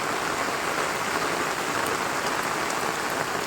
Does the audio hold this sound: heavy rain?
yes